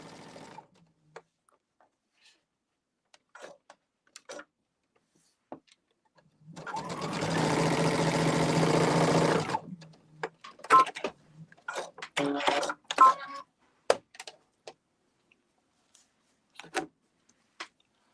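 A sewing machine stitching small triangle pieces of a quilt block runs in one steady burst of about three seconds, surrounded by quieter clicks, handling noises and short fabric rustles.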